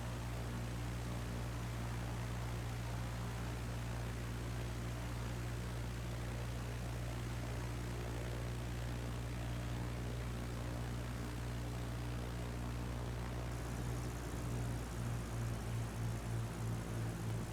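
A small propeller plane drones steadily in flight while descending and turning at low altitude, a constant engine hum with airy cabin noise throughout.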